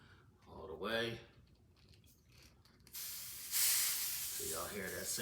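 Air hisses steadily out of the valve of a vacuum storage bag, a broad rushing hiss that swells partway through and continues, with a person speaking briefly before it starts and again as it carries on.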